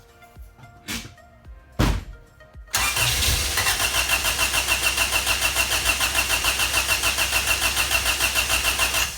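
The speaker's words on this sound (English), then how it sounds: "I'm gonna crank it until it has oil pressure and then fire up." A Honda CRX with a B17 engine cranks in two short bursts after a faint clunk, then catches and fires into a loud, close, steady idle with a rapid pulsing exhaust beat.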